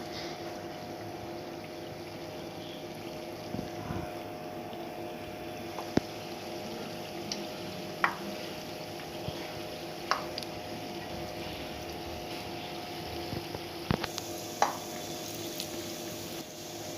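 Kappa bonda frying in hot oil, a steady bubbling sizzle that runs throughout with a few sharp pops and crackles scattered on top.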